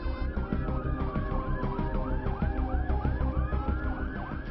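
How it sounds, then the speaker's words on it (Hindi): Several ambulance and emergency vehicle sirens wail together at a scene, overlapping rising and falling tones repeating steadily with a rumble of traffic underneath, no talking. "मौके पर कई एम्बुलेंस और दूसरी गाड़ियां जाती हुई दिखाई दे रही हैं"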